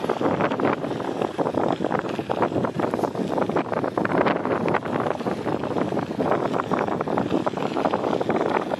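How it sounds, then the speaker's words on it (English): Strong wind at a beach buffets the microphone in loud, continuous gusts with a rough, roaring texture, steady for the whole stretch with no clear voices. "Oh, the wind is still fighting me."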